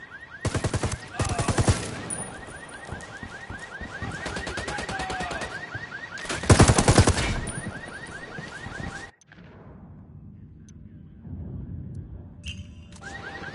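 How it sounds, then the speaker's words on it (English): Many guns firing at once in the video game Ghost Recon Wildlands: loud sustained bursts of automatic gunfire in two heavy volleys, then a sudden drop to quieter scattered shots and ambient game sound. "Bunch of dudes shooting off guns tends to have that effect."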